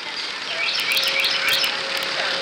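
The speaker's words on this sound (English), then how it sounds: "bird noise you hear is on Discovery Island," Birds on Discovery Island at Walt Disney World in 1980 chirp and tweet in quick high bursts over a steady hiss of background ambience, a few calls close together and fairly clear.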